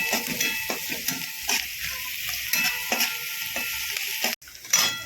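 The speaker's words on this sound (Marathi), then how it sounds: "कांदा चांगला परतून घेऊया" Chopped onion sautéing in a pan for a spicy Maharashtrian dill greens dish, a steady close sizzle broken by repeated scrapes and clinks of a spoon stirring, with a brief drop to near silence near the end.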